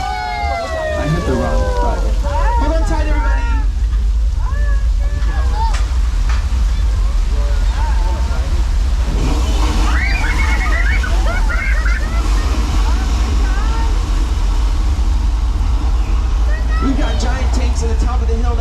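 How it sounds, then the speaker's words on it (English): Rushing water released down a hill on a theme park water ride at Universal Studios Hollywood, a loud steady wash with splashes and crowd voices throughout. "to the top of the hill that releases the water towards us"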